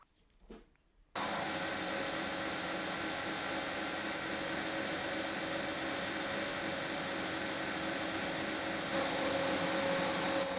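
Steel knife tang being ground on a grinder, starting abruptly after a second of quiet and then running as a loud, steady, continuous whine with a broadband hiss.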